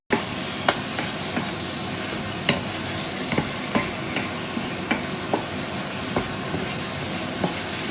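Something simmering in a saucepan with a little added water on a home stove, a continuous bubbling hiss with scattered small pops and ticks, close and steady, no voices.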